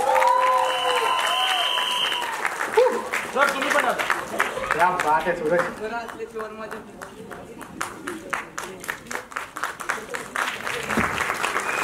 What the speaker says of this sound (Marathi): एकदा जोरदार टाळ्या सूरज आणि त्याच्या बहिणींसाठी